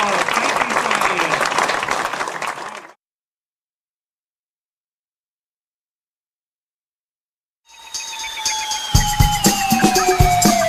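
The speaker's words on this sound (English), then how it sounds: "let's give Cheyenne here a great big round of applause" An audience at a Blackpool Magician's Club show in 2006 claps loudly for about three seconds before it cuts to silence, and different sounds follow later.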